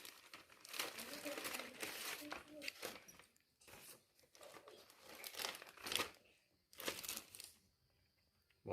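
Brand paper from a boxed ARRMA Mojave EXB RC car crinkles and rustles in close bursts of handling, with pauses between, while someone talks quietly over it.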